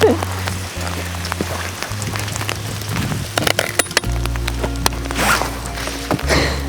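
Hail falling on a farm, a scatter of sharp clicks and cracks over dense rain-like patter, with low background hum and a few louder knocks.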